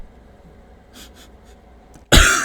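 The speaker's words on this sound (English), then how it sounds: "Why did that make me cough?" A single sudden, loud, harsh cough from a person nearby, following a couple of faint sniffs or breaths.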